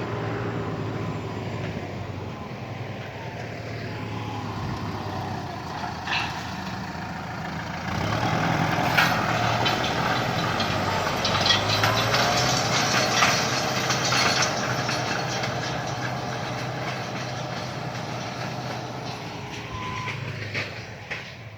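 A tractor engine runs steadily throughout with a low, continuous rumble, growing slightly louder and rougher partway through, while pulling a harrow in a vineyard.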